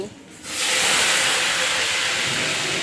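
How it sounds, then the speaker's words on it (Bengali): Papaya and potato pieces drop into hot oil tempered with black cumin and dried red chilli, and after a brief quiet moment a loud, steady sizzling hiss bursts in and holds. "পেঁপেটা আর আলুটা দিয়ে দেবো দিয়ে কিন্তু ভালো করে ভেজে নেব"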